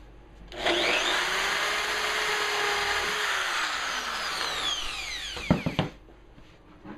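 Power drill boring a hole through the wooden top of a planer feed table, one sustained close whine lasting about five seconds, followed by a few sharp knocks as the bit is pulled out and the workpiece is handled.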